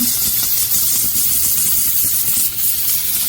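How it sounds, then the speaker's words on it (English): Steady hissing spray of steam from a 2500W handheld steam cleaner nozzle, continuous and close, with a brief dip near the end. "It's going to start squirting out water and then steam."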